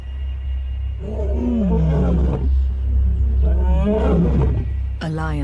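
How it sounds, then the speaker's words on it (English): Big male lions roar along a river in the wild, a loud, deep series of groaning calls in two long bouts over a steady low rumble, with a sharper call cutting in at the end. "A lion's roar can be louder than a jackhammer."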